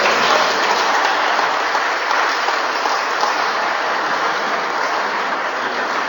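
Audience applause for the poet Andrea Boccheri at a Sardinian tenore singing event in Nùgoro, a steady dense clapping wash lasting throughout at even loudness, with no voices.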